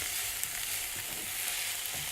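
Onions fry over medium to high heat in a pan, giving a steady close sizzle and hiss with faint stirring scrapes.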